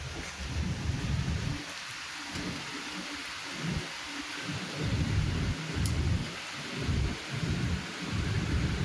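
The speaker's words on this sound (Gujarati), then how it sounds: "આજનો વરસાદ આવ્યો છે" Steady rain pours down during a wet spell in Surat, a dense, continuous hiss of drops on surfaces close by, with soft rumbling swells underneath and no voices.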